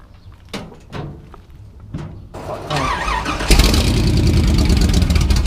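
A 1930 Ford rat rod with a Chevy motor starts up: a few soft clunks, a cranking starter, then the engine catches and roars loudly at close range, settling into a heavy rumbling idle.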